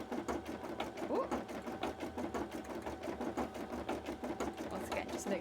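A sewing machine stitches cosplay fabric in a fast, steady run of needle strokes that continues throughout, with a faint voice now and then in the background.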